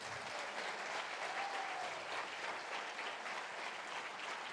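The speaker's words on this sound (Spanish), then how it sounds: "Denle un aplauso grande al Señor" Sustained applause from a church congregation during a sermon, a steady dense wash of many hands clapping that holds evenly throughout without voices over it.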